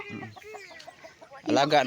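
A native chicken clucks in a quick run of short calls, then lets out a louder, harsher squawk near the end.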